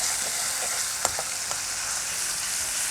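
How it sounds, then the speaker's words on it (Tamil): Ginger garlic paste sautéing in hot oil, a steady broadband sizzle throughout with a few faint spatter pops and clicks of stirring, no talk. "இஞ்சி பூண்டை பேஸ்ட்டை நல்லா வதக்கிட்டு சும்மா 2 பெரட்டு நல்லா"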